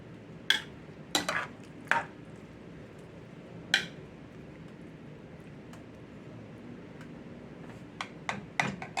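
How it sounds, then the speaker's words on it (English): Chopped steak pieces being stirred around in a pan with a utensil for a smothered mushroom gravy dish, giving sparse, sharp scraping and clinking taps at irregular moments over a low simmering background. "Stir these babies around in here."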